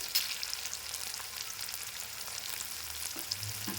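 Chopped onions with a little turmeric frying in a pan, giving a steady, soft sizzle with faint stirring scrapes throughout and no talking.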